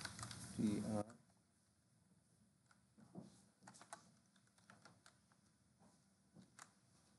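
Soft keystrokes from typing code on a computer keyboard during a Python programming lesson, a quiet, irregular patter of clicks after a brief louder burst at the start.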